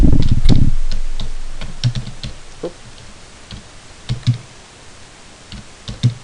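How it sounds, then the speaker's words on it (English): A computer keyboard is typed on close by with scattered irregular key clicks and a few louder taps spread over six seconds, and a brief low thump at the start. "I can type sailboat"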